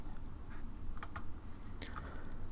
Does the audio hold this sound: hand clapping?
no